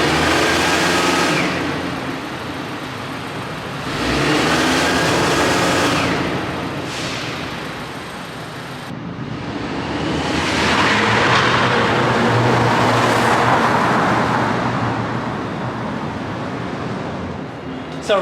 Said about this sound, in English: This is going to be a before sound of the car when I didn't have the short ram air intake.